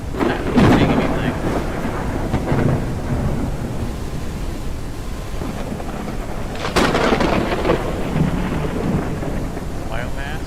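A storm rolls through the survival game Forever Skies: loud cracks of thunder at the start and midway with long rumbling tails, over constant heavy rain.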